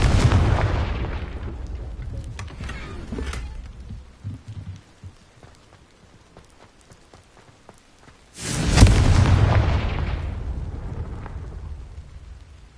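Two Confringo fire spell blasts in the Hogwarts Legacy video game, each a loud booming explosion with a long rumbling decay, the second one arriving after a quieter stretch of scattered small impacts.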